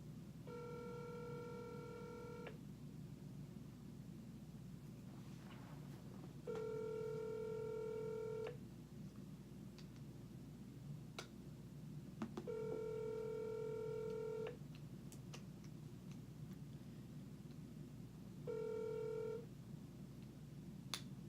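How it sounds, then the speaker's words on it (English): A telephone is dialled to call a caller back: separate bursts of dialing tones sound at intervals over a low background hum, faint and without speech. "We are recalling caller number 1, as previously he was unable to answer the phone."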